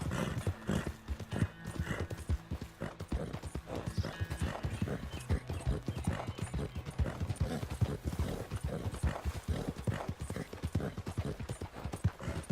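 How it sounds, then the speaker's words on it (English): Horse hooves clip-clop in a steady, busy rhythm throughout Red Dead Redemption 2, with a horse whinnying partway through, all close and fairly loud. "Hey, that's a nice looking horse you have there."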